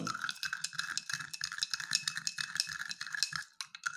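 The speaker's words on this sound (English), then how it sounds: "when I will stir the solution" A spoon stirs half a spoonful of sand in a glass of water, making quick, steady clinking and scraping against the glass for several seconds with no talk.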